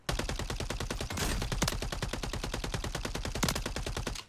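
Rapid, sustained assault rifle fire in a video game, loud and close, with evenly spaced shots in long automatic bursts and a brief break partway through.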